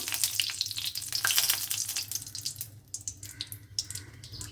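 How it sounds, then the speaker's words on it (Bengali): Two dried red chillies frying in very hot oil for Bengali masoor dal, giving a loud, crackling, spitting sizzle up close that eases into softer popping toward the end. "একটু ভেজে নিলাম লঙ্কাটা"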